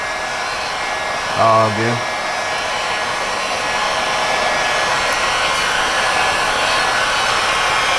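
Heat gun warming a carbon fiber side skirt on a BMW M340i during installation, a steady close blowing roar that runs throughout, with a brief spoken remark near the start.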